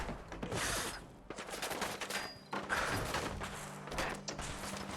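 Gunfire from a firefight in the video game Fallout 4, a burst of shots and distant cracks layered over busy game sound, loud at first and fluttering on through several seconds with no talking.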